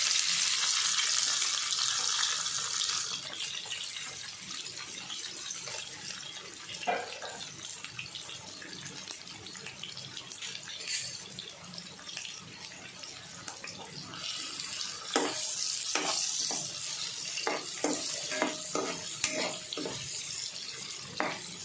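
Onion and tomato frying in a pan for stuffed capsicum, a strong hiss at first that eases into a softer sizzle, with repeated spatula scrapes and clicks growing busier toward the end.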